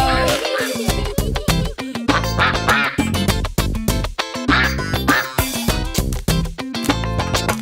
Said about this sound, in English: Here a quack, there a quack, everywhere a quack quack